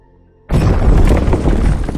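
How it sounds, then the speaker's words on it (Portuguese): The Chernobyl nuclear reactor explosion as a sound effect: near-silence broken by a sudden massive boom that swells into a loud, sustained roaring rumble. "A tampa de 1000 toneladas que ficava sobre o reator é arremessada para cima por causa da explosão"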